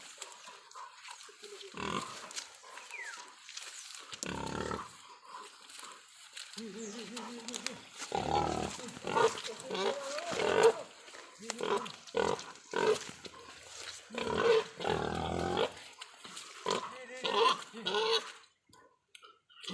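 Pigs grunt and squeal in irregular bursts, close and fairly loud, with people talking and shouting among the animals at intervals.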